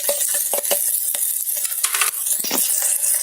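Carrots and green peas frying for masala oats in an electric kettle, a steady hissing sizzle with repeated light metallic scrapes and taps from stirring, close and continuous without talk.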